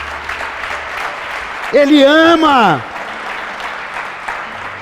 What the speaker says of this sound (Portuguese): dá um aplauso